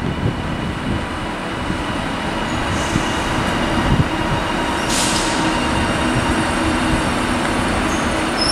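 A TransPennine Express Class 397 train to Manchester Airport pulls out of Carlisle station, a steady rolling rumble of wheels on rails with a brief high squeal midway, heard alone and fairly close.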